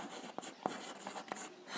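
Pen scratching on paper while writing out a class 10 trigonometry problem on right triangles, heard as a few soft, close strokes and taps, faint and brief in a quiet room with no talking.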